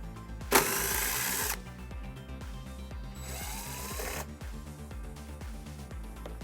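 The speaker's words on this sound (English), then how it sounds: "We're going to remove those using a 10mm socket." Two bursts of buzzing ratchet or power-driver whirr, each about a second long, as a 10mm socket backs out screws from a panel on a 2017 Subaru Impreza hatchback. A steady rhythmic mechanical ticking runs underneath throughout.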